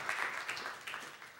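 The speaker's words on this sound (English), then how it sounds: "Round of applause, because that's really where it's happening right now." An audience applauding at a city state-of-the-city presentation, a soft, steady wash of clapping heard from a distance, faint and brief with no speech.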